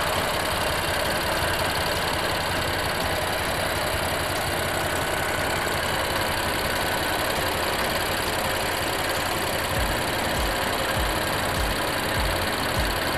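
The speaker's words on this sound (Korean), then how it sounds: "엔진 소리 일정하네요" A BMW M4 (F82) convertible's engine idles steadily and loudly up close, a smooth continuous hum with a faint ticking knock, and no voices.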